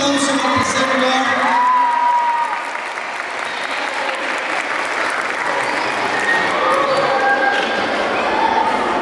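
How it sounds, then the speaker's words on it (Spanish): Loud, sustained applause and cheering from a crowd at a cueca dance championship awards, greeting the third-place winner, with shouts rising over the dense clapping throughout. "Fuerte el aplauso para el tercer lugar."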